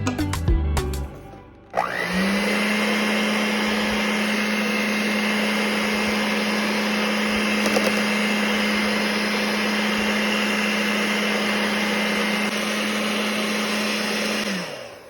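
Electric mixer whirring steadily through cottage cheese cheesecake batter with flour, a loud continuous motor drone that starts after a brief clatter and runs evenly until it winds down at the end.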